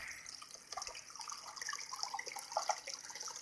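Water running from a tap near a lagoon on a sunny outdoor day, a faint, steady splashing trickle with no talking.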